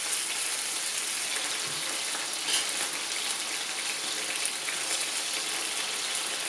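Beef searing over high heat in a pan for Szechuan beef, giving a steady, even sizzle throughout with no talking.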